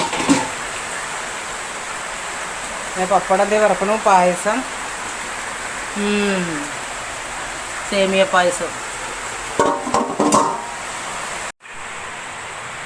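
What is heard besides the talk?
heavy rain heard from the kitchen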